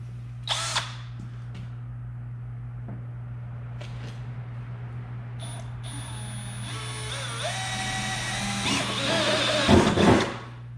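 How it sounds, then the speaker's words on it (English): A power drill whirs steadily, drilling holes in a Jeep Cherokee for a snorkel inlet, its motor pitch rising and falling as it bites in, ending with a louder burst as the bit pushes through. "let's get some drilling."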